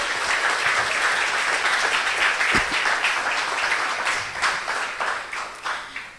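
A church congregation at a sermon gives a strong round of applause, dense sustained clapping that thins toward the end.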